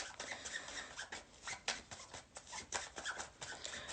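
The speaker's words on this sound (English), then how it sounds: "let's do one more shuffle" A deck of tarot cards is shuffled close by in quick, papery riffling bursts with soft flicks and taps, fairly quiet and continuous over a few seconds.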